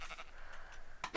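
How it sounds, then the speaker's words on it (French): Sheep in the Minecraft video game bleat in short, bright calls, a couple of quick ones at the start and another at the end, over a soft steady background. "Tiens, regardez le nombre de moutons"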